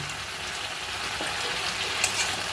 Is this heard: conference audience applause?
no